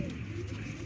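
Low, steady cooing from a breeder pair of pigeons, a soft continuous murmur close by with no talking over it.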